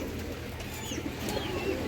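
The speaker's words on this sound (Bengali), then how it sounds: "এখানে দেখেন একটা সাদা ডেনিশ কবুতর আছে।" Pigeons on a farm housing racers, high-flyers and fancy breeds, including a white Danish pigeon, give soft low coos over a continuous murmur of background flock noise.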